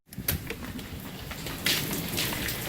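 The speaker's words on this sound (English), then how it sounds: "I think this storm's going to pass right over" Steady patter and hiss of rain falling on surfaces, growing heavier partway through, with no voices.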